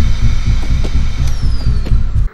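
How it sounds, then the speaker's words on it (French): A vacuum cleaner sucking in the Hello Neighbor video game, a loud steady throbbing drone with rhythmic pulses that cuts off abruptly at the end. "Oh, il a un aspirateur!"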